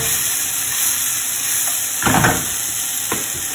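Shrimp in ranchera sauce sizzling in a hot pan on a home stove, a steady frying hiss with a couple of brief louder crackling bursts as sauce hits the oil.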